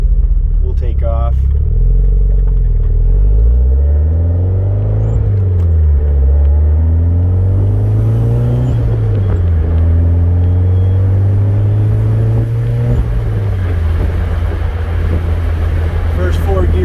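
Toyota MR2 accelerating through its first four gears, a loud, close engine that rises in pitch, drops at each shift and climbs again several times, with someone talking over it.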